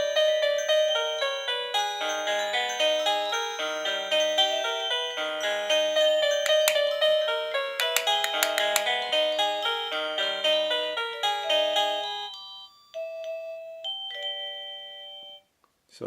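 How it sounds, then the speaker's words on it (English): A KooPower wireless doorbell chiming after a remote button press, a loud, clear multi-note electronic melody lasting about twelve seconds, then fading to a few softer isolated tones. "let's see what happens if I hit that remote control ringing button right now"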